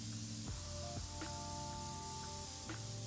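Fenty Skin facial spray mists onto a face in a soft, steady hiss at close range, with faint musical tones in the background.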